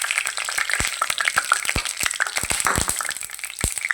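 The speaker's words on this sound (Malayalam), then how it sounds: "കടുക് പൊട്ടി" Mustard seeds popping in hot oil, heard as a steady run of sharp, irregular crackles and pops over a sizzling background, close and fairly loud without any voices.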